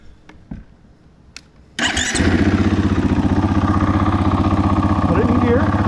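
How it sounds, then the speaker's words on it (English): A 2022 KTM 500 dirt bike fires up close by after a few faint clicks, bursting into a loud, steady idle that runs on to the end. "Now what I do is start the bike up again."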